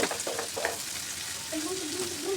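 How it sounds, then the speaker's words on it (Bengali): Frozen peas and green beans with salt being stirred in a hot pan, giving a steady sizzle with soft scraping stir strokes close up, no voices. "এখন আমি ভালোভাবে মিশিয়ে নিচ্ছি"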